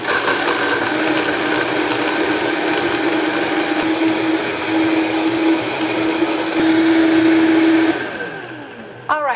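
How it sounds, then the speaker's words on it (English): A blender whirs loudly and continuously while pulverizing nuts for nut milk, its motor pitch shifting slightly as it runs before winding down near the end. "and the blender's gonna come on."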